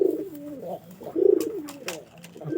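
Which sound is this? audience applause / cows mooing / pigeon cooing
pigeon cooing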